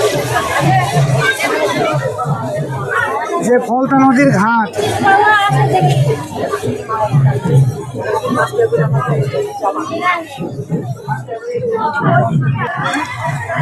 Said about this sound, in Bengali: এত ভিড় যা বলে বোঝানো যাবে না